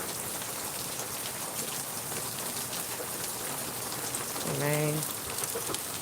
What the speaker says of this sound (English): Oh, it's really raining.